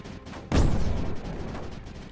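In a video game, a mortar fires once with a sharp, heavy boom, followed by a rumbling, whistling decay that lingers under steady background game noise.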